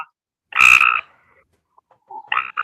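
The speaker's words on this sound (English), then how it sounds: "He's still here. So is that Frog." A frog croaks loudly and close by in two bursts on a summer evening, with a long quiet gap between them and a few faint scattered sounds in that gap.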